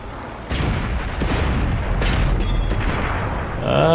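Tank cannon fire in World of Tanks, several heavy booming shots landing close and loud over a continuous rumbling battle background, with a rising whine at the end.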